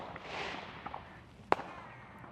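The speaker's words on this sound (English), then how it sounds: "the fireworks begin." On bonfire night in a park with piles of dumped tyres, scattered fireworks pop and crack in the distance, with one sharper, louder bang standing out against a hissing outdoor background.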